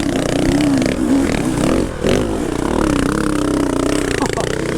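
A 4-stroke dirt bike engine revs hard and loud up close while hard enduro riding, a continuous roar that dips briefly partway through and then climbs again.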